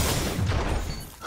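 Shotgun blasts in Destiny Iron Banner PvP, heavy booming shots packed into a brief burst of loud, dense game combat noise.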